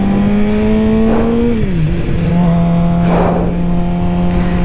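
A beginner rider's first motorcycle revving loudly up close, its engine note rising, dropping and holding steady, with a couple of short gear-change blips and no talk.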